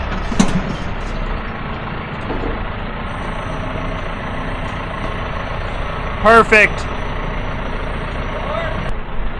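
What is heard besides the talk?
truck idling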